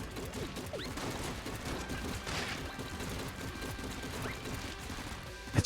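Dense rapid gunfire of silver bullets in Enter the Gungeon, a continuous busy clatter of small shots and impacts with game effects layered over each other.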